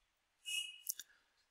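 A computer mouse clicks in a quiet room: a short soft rustle of movement, then a couple of crisp, close clicks in quick succession.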